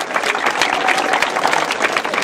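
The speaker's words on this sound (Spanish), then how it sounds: "le vamos a dar un fuerte aplauso" An audience at an educational excellence award ceremony applauds, dense and loud clapping from many people filling the room continuously.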